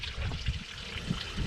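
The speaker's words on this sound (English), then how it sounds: "And I just siphon that water out." Water is siphoned out through a pipe on a farm, a soft, close trickle and dribble running steadily without pause.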